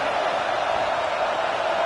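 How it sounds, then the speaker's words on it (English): A home football crowd in an Oregon stadium roars in a steady, loud wash of cheering that fills the whole moment without letup. "how nice is it to have the home crowd going absolutely bananas"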